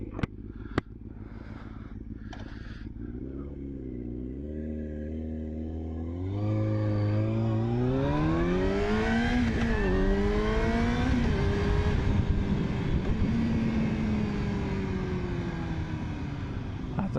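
A Yamaha R6 sport motorcycle idles briefly, then accelerates hard through rising revs and gear changes, the engine note climbing and dropping in a loud, close, continuous whine with no talking.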